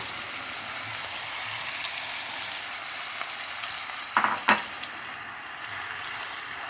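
Shrimp fry in a pan with turmeric, chilli and garlic paste, giving an even, continuous sizzle and hiss, interrupted by two short metallic taps near the end; no one speaks.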